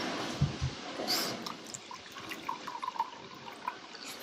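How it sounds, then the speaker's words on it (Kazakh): Water pours and splashes nearby, with a few thumps at the start and small drips and clinks trailing off afterward. "Бірінші су құйып аламыз енді."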